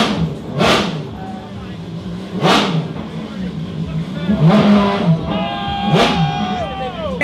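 A Ferrari XX program car accelerating up a hill, its engine revving in several rising surges that swell and fade, with people talking over the noise.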